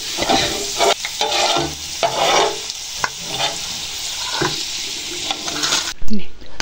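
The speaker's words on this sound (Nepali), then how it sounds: "टिमुरलाई भुट्छु है।" Timur (Sichuan pepper) dry-roasting in a pan, a steady dry crackling hiss broken by repeated scraping stir strokes, close and fairly loud, then a sharp clatter near the end.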